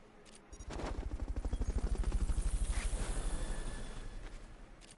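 A helicopter in Metal Gear Solid: Peace Walker, its rotor thumping in a fast, steady pulse that swells in loudly after a brief start, holds close, then fades slightly. No one talks.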